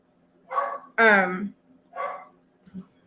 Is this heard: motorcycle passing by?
no